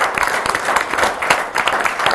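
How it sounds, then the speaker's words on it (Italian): Audience applause for two guests at a youth political meeting in Padova, a loud clapping crowd nearby with an uneven, pulsing rhythm. "Facciamo un bel applauso a questi due ospiti."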